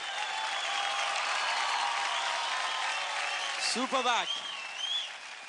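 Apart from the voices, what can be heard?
TV studio audience applause for dance act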